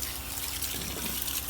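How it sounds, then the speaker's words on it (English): Water rushes steadily during a backflush of a garden pond filter, a loud, close, continuous gushing flow with no pauses. "So you can see just a little bit of backflush."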